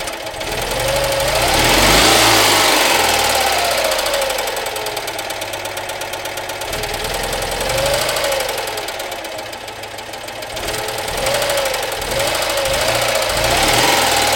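Cold 1969 Citroën Dyane 4 with a badly tuned carburettor idling roughly, a loud, close, uneven knocking chug whose speed surges and sags as if about to stall.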